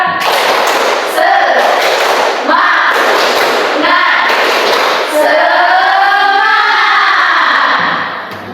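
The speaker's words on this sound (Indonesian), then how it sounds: "Tepuk semangat." Loud, close bursts of a school class's spirit clapping in a repeated rhythmic pattern, alternating with the students' voices chanting together.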